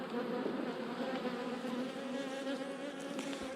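Italian honeybees (ligustica) buzz at the hive in September before the cold, a dense and constant hum of many wings close by with no break.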